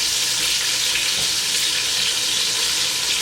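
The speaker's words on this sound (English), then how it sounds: "I'm going to saute them up for a couple minutes until they're tender" Vegetables sauté in a hot pan, giving off a steady, loud hiss of sizzling that runs evenly and uninterrupted from start to finish.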